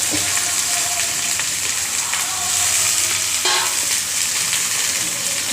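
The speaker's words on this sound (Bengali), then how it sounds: "এরপরে ঝিঙে আলু টমেটোটা ভালো করে এখানে দিয়ে দিলে ভালো করে একবার এটাকে ভাজবে।" Ridge gourd, potato and tomato fry in a wok over oil tempered with five-spice and dried chilli, a loud, continuous close sizzle and hiss with occasional stirring scrapes.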